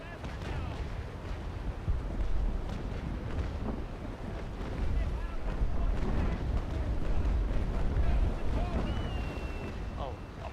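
A sailing ship moves through water in a video game, with continuous rushing water and wind-like roar broken by heavy booming bursts, with indistinct voices faintly underneath.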